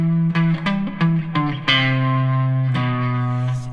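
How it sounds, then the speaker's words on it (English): Electric guitar riff played through a distortion effect in a guitar lesson: several choppy plucked notes give way to long sustained distorted chords ringing with thick harmonics, loud and close. "you can kick in the distortion if you want"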